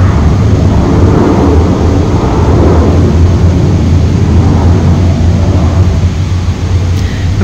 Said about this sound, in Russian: Гроза и самолет взлетел, вон он пошел.